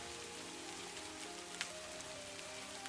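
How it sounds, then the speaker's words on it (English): Steady rain pours on a rainy night, a dense even hiss of drops striking surfaces with a few sharper individual splashes, continuous and close, with no voices. "But I love the rain."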